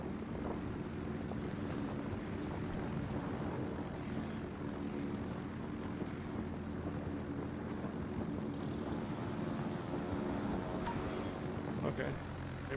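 Fighter planes fly overhead in a naval warship video game, producing a steady propeller-engine drone with a constant rumble over about thirteen seconds, with no spoken voice.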